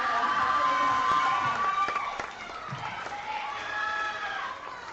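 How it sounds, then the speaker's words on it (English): A loud crowd cheers, whoops and screams for a contestant at a youth pitch competition, a dense, sustained roar that eases slightly midway and then swells again. "Her crowd is so loud."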